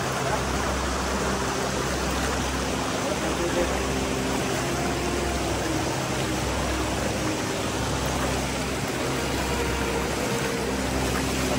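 A strong-flowing river at a second crossing fills the air with a steady, loud, unbroken broadband rush of water, close by and constant throughout, with no voices.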